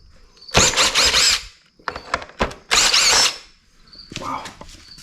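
A power drill backs out screws on a Jeep Gladiator Rubicon JT during an LED fog light install, with several loud close whirring bursts separated by short pauses and the clatter of handling in between.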